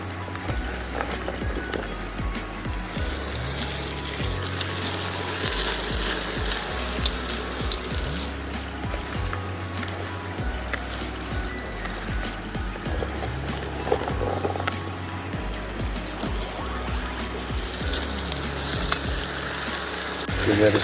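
Beans and carrots frying in a pot in a Samoan home kitchen, a steady continuous sizzle running throughout at close range with occasional stirring, no talk.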